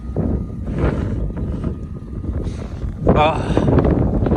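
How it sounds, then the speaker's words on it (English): Wind buffets the microphone in a steady low rumble, with someone talking over it outdoors while working on a lowered Chevy S10 on a 1969 Chevy Corvair chassis. "it's kind of windy."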